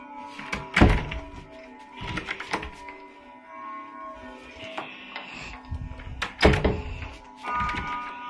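Doors being checked in a monster house video game, with heavy wooden thunks and clattering knocks that come in irregular bursts, loud and close, with quieter gaps between them.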